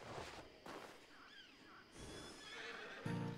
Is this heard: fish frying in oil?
no